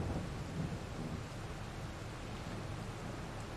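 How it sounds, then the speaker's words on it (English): Rain and thunder in the farming game Farming Simulator 22: a steady hiss of rainfall with low rumbling thunder rolling underneath, moderately quiet and continuous, with no voices. "while it's raining"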